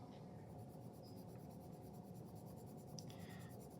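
An orange colored pencil burnishing over layered color on paper, a continuous close, soft waxy scratching with steady strokes and a couple of brighter scrapes near the end.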